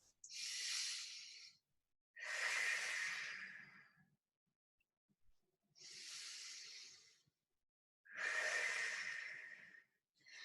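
Deep, slow breaths during a hips and glutes stretching class, four long airy inhales and exhales separated by silent gaps, close and clear with no talking.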